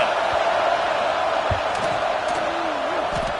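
A steady stadium crowd roar before a field goal attempt in the College Football 26 video game, a continuous dense murmur with a few faint thuds underneath.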